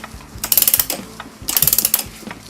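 On a Gilbert kitchen clock, the mainspring clamp comes off while the ratchet gives two close bursts of rapid, crisp clicks separated by a short pause, and no voice is heard.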